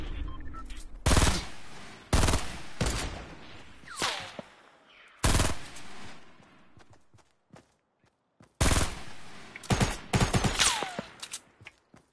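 Bursts of automatic gunfire in a squad-based shooter video game, loud sharp volleys separated by short quiet gaps, with faint footsteps between them.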